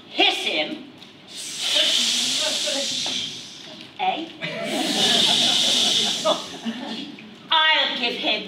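A pantomime audience in a village hall hisses at the villain in long, loud sustained waves, several bursts in a row, with voices and some laughter mixed in.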